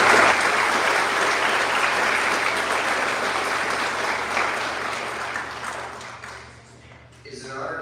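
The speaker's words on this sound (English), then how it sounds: "Please give her a round of applause." An audience at an eighth grade promotion ceremony breaks into sustained applause, dense clapping that gradually tapers off over several seconds, with a voice starting at the end.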